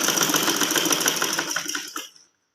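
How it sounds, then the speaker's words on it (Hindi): A sewing machine stitches a slanted fabric strip onto a trouser hem, a steady rapid needle chatter running loud and close for about two seconds before stopping abruptly into silence. "हम यहाँ से इसके यहाँ पे सिलाई लगाएंगे"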